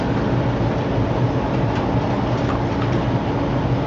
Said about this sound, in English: Been running this stack train for a while,